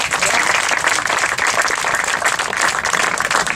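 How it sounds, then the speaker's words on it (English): A crowd applauding at a school groundbreaking ceremony, dense steady clapping sustained throughout at full volume. "Can we give them a round of applause?"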